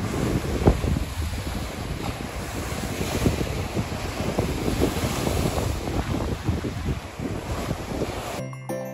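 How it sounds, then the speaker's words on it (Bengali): Sea waves roar and crash continuously at Tajpur beach, a loud, broad rushing surf close by with steady wind buffeting the microphone and no voices, cutting off abruptly near the end. "এই দেখুন তাজপুরের প্রথমেই একদম নেমে যে সমুদ্রের গর্জন আওয়াজ আর সমুদ্রের ঢেউ দেখতে পাচ্ছি।"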